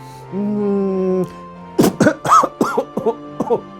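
A sustained hum is followed by a burst of several sharp coughs, close and loud, spaced unevenly over a couple of seconds.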